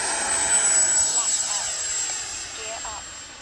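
An FMS Integral 80mm radio-controlled jet runs on a high-voltage LiHV pack, its ducted-fan whine loud and sustained as it passes through open sky, fading slightly toward the end.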